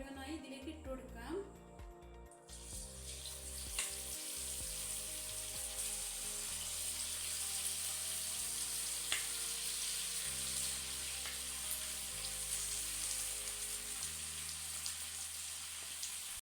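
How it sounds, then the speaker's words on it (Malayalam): Marinated chicken pieces drop into hot oil for restaurant-style chilli chicken, setting off a steady bright sizzle of deep frying that holds throughout, with a few clatters early on. "ഇനി നമുക്ക് മാഗ്നേറ്റ് ചെയ്ത് വെച്ച ചിക്കൻ ഓരോന്നായി ഇതിലേക്ക് ഇട്ട് കൊടുക്കാം."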